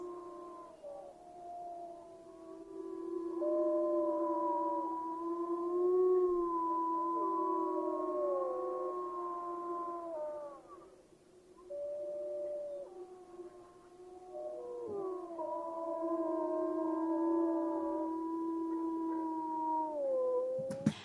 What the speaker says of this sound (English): You might hear some wolves howling.